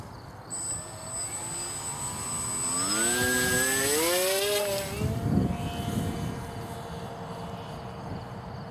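A motorglider's engine spools up during launch, its whining tone climbing and wavering in pitch as it roars close by, then fading as the aircraft pulls away, leaving quieter wind and ambient noise.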